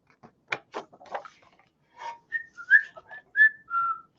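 A person whistles in imitation of a zookeeper during a children's story time, a few soft breathy blows followed by a run of short clear whistled notes, close and fairly quiet.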